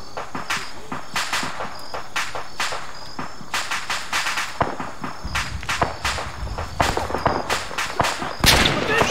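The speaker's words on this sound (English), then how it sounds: "Shots from that direction." Gunfire in the Arma 3 military shooter, sharp cracking shots fired singly and in short irregular bursts, some near and loud, others more distant, over a steady background hiss of insects.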